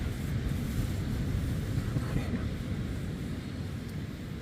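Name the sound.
sea waves on a beach at night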